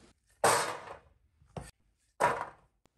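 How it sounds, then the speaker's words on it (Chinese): Celery stalks chopped into short lengths with a kitchen knife, giving two loud, close blade strikes on a cutting board and one softer, brief tap between them, with near silence around them. "先准备垫底的不用焯水的香芹，洗净切成小段"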